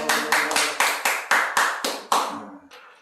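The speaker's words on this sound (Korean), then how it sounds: "오늘 박수 한번 치고 먼저" An audience at a formal gathering claps in steady rhythmic unison, about eight sharp, close claps at an even pace, then trailing off into softer scattered claps.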